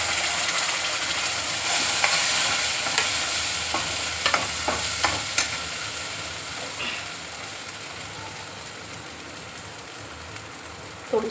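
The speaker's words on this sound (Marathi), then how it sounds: "छान भाजून घेऊ त्यात आपण हे वाटण तयार केलेलं हे टाकून" Turmeric, red chili and a ground spice paste fry in hot oil, giving a steady crackling sizzle with occasional scraping stirs from a spoon, fairly quiet and continuous with no talk over it.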